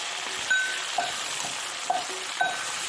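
Onion, tomato, bay leaf and chili frying in a pan, a steady sizzle with a few light scrapes and clicks of stirring spread across the clip.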